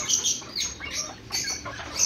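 Caged lovebirds and pheasants make faint chirps and rustling around the enclosures, heard as scattered short calls that come and go.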